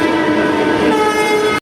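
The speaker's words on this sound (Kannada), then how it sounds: "ಹೆವಿ ಸ್ಪೀಡ್ ಹೊಂಟದ ಟ್ರೈನ್" A train rushing past at high speed near the Kalaburagi line, a loud, steady roar of rolling stock with horn-like tonal bands, cutting off abruptly at the end.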